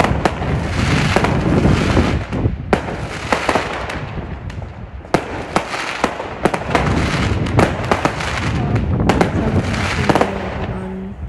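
New Year fireworks on Commercial Road in Crawley, with dense crackling bursts and sharp pops that repeat nonstop, loud and fairly close, and a booming rumble underneath.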